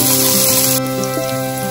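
Onion hits hot oil and ghee in a pan, raising a loud, bright sizzle that keeps crackling steadily, easing off slightly after the first moment.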